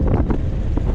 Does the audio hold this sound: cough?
no